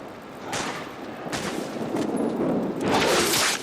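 Rapid bursts of gunfire in The Darkness video game, several broadband volleys close together and fairly loud, swelling into a denser, sustained barrage toward the end with no talking over it.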